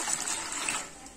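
Water pours into sodium hydroxide for homemade soap, a brief steady splashing trickle into a container, close and fairly soft.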